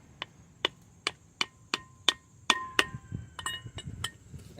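A tool tapped with a hammer to seat a front wheel bearing part on a Ford E350 van, about ten crisp metallic taps in a steady rhythm that quicken and crowd together toward the end, close and clear, no talk.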